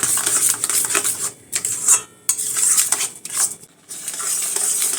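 A spoon stirs and scrapes khoya mixture in a pan over a high flame, with repeated close metallic clinks and scrapes and a faint sizzle, separated by brief pauses.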